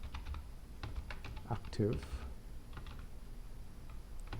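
Keys tapping on a computer keyboard while code is typed, a light irregular run of clicks under a voice talking in a quiet room.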